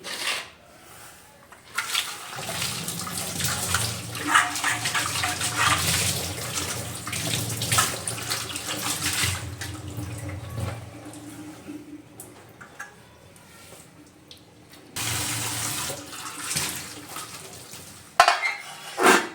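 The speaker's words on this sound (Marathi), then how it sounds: "आता मी हे स्वच्छ धुवून घेते" Aluminium containers are rinsed under a running tap, with water splashing and gushing loudly, hollow metal clanks and scrapes as the tins are handled, and a brief pause before the flow resumes near the end.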